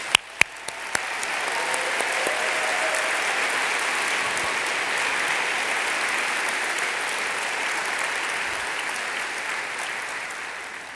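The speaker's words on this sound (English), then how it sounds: "Let's give her a round of applause" Sustained audience applause fills a hall at Long Beach's 2015 State of the City address as a woman named Brenda stands, steady dense clapping holding for about ten seconds after a few sharp early claps.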